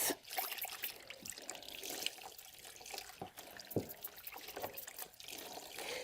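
Water splashes and trickles as a resident's foot is rinsed in a basin during CNA foot care, a close, steady, continuous wash with no talking.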